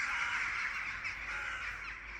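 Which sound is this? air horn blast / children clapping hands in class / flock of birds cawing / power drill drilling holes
flock of birds cawing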